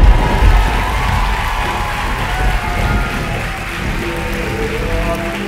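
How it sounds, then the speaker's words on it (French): An audience in a hall applauds and cheers loudly at a national college talent show final in Joliette, a dense, sustained roar of clapping with scattered whoops and shouts throughout. "C'est ça, applaudissez-les, applaudissez-les."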